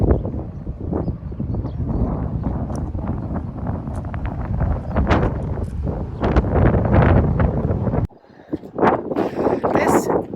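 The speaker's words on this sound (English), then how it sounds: "This wind is quite nippy again." Nippy wind buffets the microphone outdoors in the car park at Carnasserie Castle in Scotland, a loud rumbling roar with gusts, and a person speaks over it.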